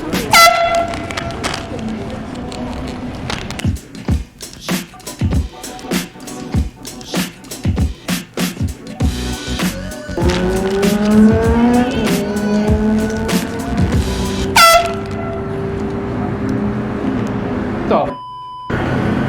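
An air horn blasted as a prank sounds in several loud, sustained blasts, mixed with sharp bursts, screeching and tire-like squeals, while people talk and react nearby.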